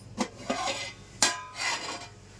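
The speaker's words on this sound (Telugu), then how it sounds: "మూత పెడుతున్నాను." A metal lid set onto a pan of simmering moong dal and amaranth-leaf curry, giving a few separate clinks and clatters spread over a couple of seconds, close and moderately loud with no talk.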